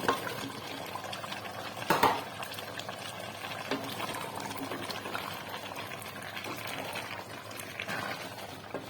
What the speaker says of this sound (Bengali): তো আমি এখন আলুটা দিয়ে দেবো